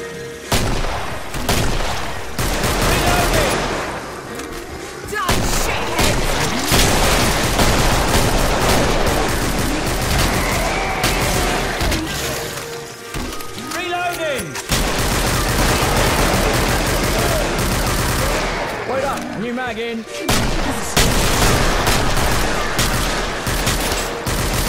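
Dense gunfire from the Killing Floor shooter game in a Paradise Mall level, a Sharpshooter loadout firing nonstop: loud overlapping shots and booms fill the whole stretch with only brief lulls.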